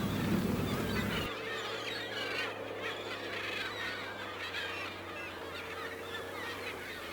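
A flock of birds gathers at a rubbish tip in Gloucester, giving a continuous, fairly faint chorus of overlapping honking calls that follows a brief low rumble at the start.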